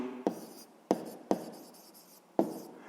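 Pen strokes write out a sixth-grade math solution: four quiet, sharp scratches in an uneven rhythm, each fading quickly, close by and with no voice.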